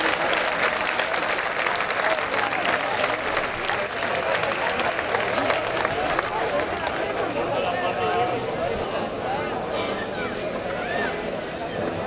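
Sustained, dense audience applause welcoming a folk dance group about to perform fandango, malagueña bolera and jota at a folklore event in Lorca, steady and loud for the whole stretch with faint crowd murmur mixed in.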